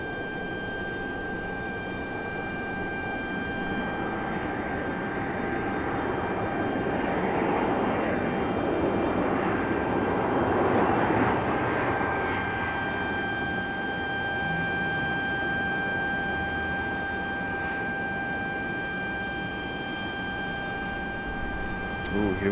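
A Delta CRJ-900 regional jet airliner lands at Raleigh-Durham International Airport, its engine roar a steady, broad wash that swells toward the middle and holds throughout, with a constant tonal whine.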